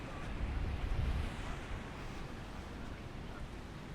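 Surf rolls onto the main beach at Akumal Beach, Mexico, a broad wash of waves mixed with wind buffeting the microphone, strongest in the first second and then settling into a steady roar.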